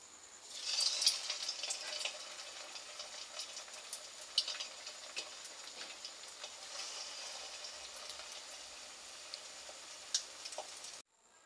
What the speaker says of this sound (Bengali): এবার আমি আর যে চপ আছে ওগুলো ভেজে নিচ্ছি।